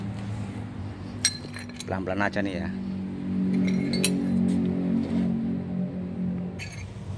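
A flathead screwdriver gently tapping an aluminium fuel filter housing on a vehicle: a few light metallic clinks and a brief rattling burst, with someone speaking quietly over steady low background noise.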